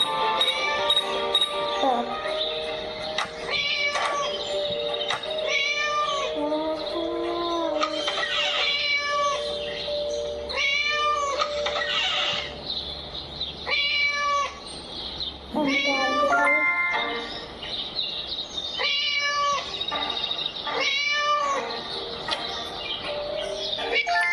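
Repeated cat meows in the game Scary Teacher, several short calls in an irregular rhythm over a constant electronic background, with occasional chirpy sounds in between.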